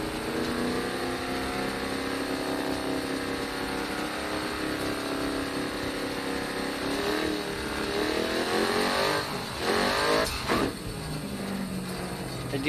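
A race car engine in Grid Autosport holds a steady high drone at about 4,000 RPM, then swells and wavers in revs toward the end, loud and close throughout.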